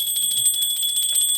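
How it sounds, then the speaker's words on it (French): A fire station alarm bell rings continuously, a bright, shrill, rapidly pulsing tone that fills the whole short stretch without any voices. "la petite cloche de l'alarme s'est mise à sonner"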